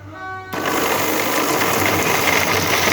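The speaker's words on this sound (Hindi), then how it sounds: "इसको ग्राइंड कर लेना है।" A blender starts abruptly and grinds falsa berries with sugar and water, a loud, dense mechanical whir that holds steady right up close after a quiet hum.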